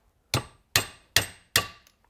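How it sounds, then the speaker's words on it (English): Four sharp metallic hammer strikes drive a pin into metal on a Tecumseh LCT snowblower engine's recoil starter, landing at an even, steady pace, each ringing briefly before the next blow, close by and clear. "I usually start it with the hammer and go as deep as I can without hitting the plate."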